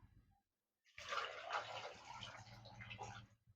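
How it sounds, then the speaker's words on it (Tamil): Water pouring steadily into a pressure cooker holding sweet potatoes in a home kitchen, a close, continuous splashing gush of about three seconds that starts abruptly after a brief quiet moment. "தண்ணி ஊற்றிக்கோங்க"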